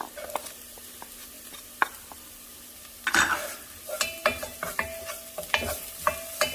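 Chopped shallot and garlic sizzle in a pan with a pinch of salt, a low steady fry crackling under repeated sharp clicks and scrapes of a utensil stirring against the pan.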